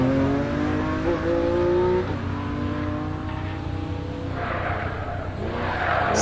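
A BMW hill climb race car sliding on the course: a loud, sustained engine roar with rising and falling revs, the note wavering as the tail steps out, then a burst of harsher revving near the end.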